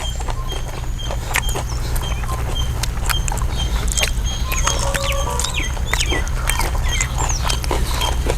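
Crispy fried Lays onion rings are bitten and chewed close up, giving dense, rapid crunching and crackling that carries on without a break over a low background hum.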